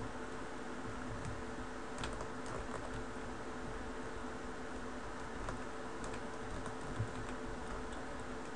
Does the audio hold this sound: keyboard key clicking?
yes